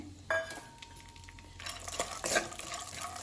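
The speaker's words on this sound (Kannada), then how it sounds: "ಇದನ್ನು ಚೆನ್ನಾಗಿ ಫ್ರೈ ಮಾಡ್ಕೊಳ್ಬೇಕು" Almonds, cashews and raisins frying in ghee sizzle softly in a pan, with spoon clinks and scraping from stirring and a brief louder hiss midway.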